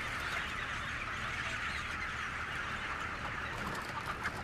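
Chickens in a crowded cage-free poultry barn produce a dense, continuous chorus of clucking and chatter, a steady loud wash of many birds with no talk.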